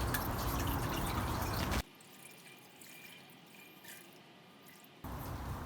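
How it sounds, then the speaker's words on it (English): Excess dye liquid runs from squeezed tie-dye fabric back into a bucket, a loud steady splashing pour that cuts to faint trickling drips, then resumes abruptly near the end. "Just squeeze it out. All that extra liquid back in the bucket."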